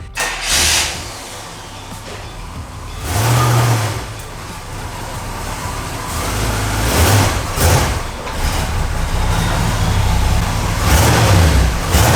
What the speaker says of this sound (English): I'm gonna move the car in here, get it positioned